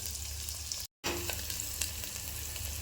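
Onion, garlic and curry leaves sautéing in a hot pan, with a steady broadband sizzle and frying hiss and a brief stir. Alone, with no voices.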